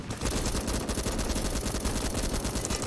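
Rapid sustained automatic gunfire in a military video game, loud and dense, one continuous burst of rattling shots with no speech.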